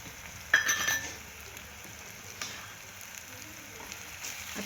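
Onion garlic masala sizzling faintly in hot oil while being sautéed for a farshan bhaji, a soft steady crackle under a sharp utensil clink near the start and a few light taps.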